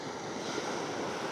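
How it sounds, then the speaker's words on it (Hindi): Sea waves wash steadily against the shore at a remote beach on the Balochistan coast. The surf is a dense, continuous roar mixed with wind noise, and no one speaks. "यहाँ आप लहरें देखें किस खूबसूरती के साथ दाखिल हो रही है और किनारे के साथ टकरा रही है"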